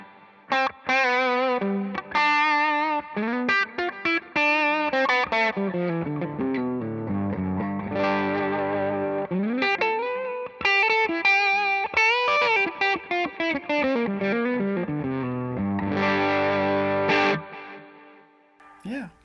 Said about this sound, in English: you like just a little bit of delay, just a little space